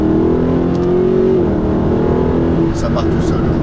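Mercedes SLS AMG with a naturally aspirated V8, downshifted two or three gears and accelerated hard, a loud, steady engine roar with harmonic drone rising in pitch, with someone speaking over it.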